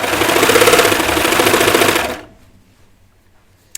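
Sewing machine running in a steady rapid stitching burst on knit fabric for a T-shirt, loud and close for about two seconds, then stopping abruptly into near silence.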